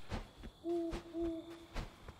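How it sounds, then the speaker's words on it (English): An owl hoots at night in the video game Death's Door, two drawn-out hoots in a row, fairly close and clear over quiet ambient game sound with a few soft thumps. "I hear the owl."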